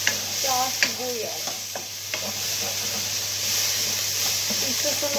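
Garlic, ginger and onion stir-fried in a pan, giving a steady hiss of sizzling oil with scraping stirs, and a person speaks briefly near the start.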